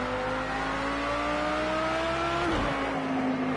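A GT3 race car engine in Project Cars 2 on the Portimão circuit in rain and fog, running loud and steady with its pitch climbing through a long pull, then dropping sharply as it downshifts under braking.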